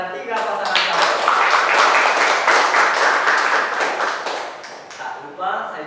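Applause from an audience at a school student council (OSIS) chair and vice-chair debate, with dense clapping building quickly and sustained over talk-like voices, fading slightly before a fresh burst near the end.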